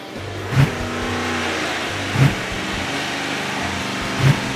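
Engine on a dyno with the alternator under load and an Aeromotive A1000 fuel pump running holds a loud, sustained high-rpm roar, with three brief surging bursts spaced through the pull.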